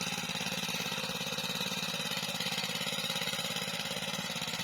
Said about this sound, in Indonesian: Kayak namanya traktor mini. Traktor mini ya.